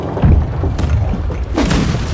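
Ship cannons fire in a naval battle in Blackwake, giving two deep, booming blasts about a second and a half apart, loud and close, with little else around them.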